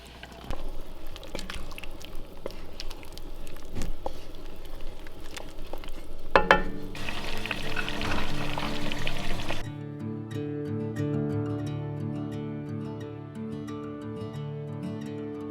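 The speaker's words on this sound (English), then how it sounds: "now I'm going to turn it down to a simmer and I'm going to go ahead and add some zucchini to it" Vegetables with onions and garlic simmering in a pot over a stove in a woodland cabin, a soft continuous sizzle with a few clinks, then a louder splash as zucchini drops in, before the sizzle gives way to a steady tone.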